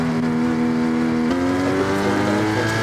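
Race cars in a GT4 sim racing event on the Sardegna track, including a Porsche Cayman, give a loud continuous engine drone whose pitch shifts up and down as the cars rev and change gear.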